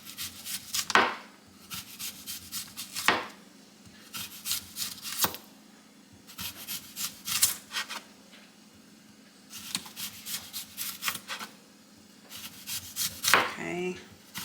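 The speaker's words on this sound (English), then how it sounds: "I'm just going to do 1/2 of this and then thinly slice the onion" A knife slicing half of a medium onion into thin slices for bread and butter pickles, heard as bursts of crisp, close cuts in several groups with short pauses between them.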